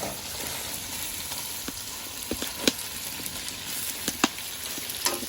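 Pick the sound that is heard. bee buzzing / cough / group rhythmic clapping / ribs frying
ribs frying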